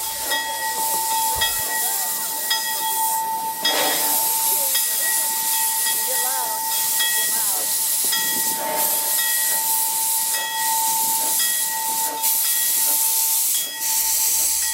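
Continuous loud hiss of escaping steam from a live steam model locomotive, with a steady whistle-like tone and occasional bursts, no voices.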